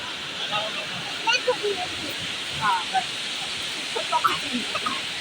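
A flooded river rushes loudly in Satpuli, its steady broadband roar continuous throughout, with a few faint bird calls and scattered voices over the water.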